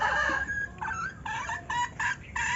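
A wild junglefowl (labuyo) crows in a rapid, clucking, chopped-up series of bright calls, fairly close and loud, standing alone with no talk over it.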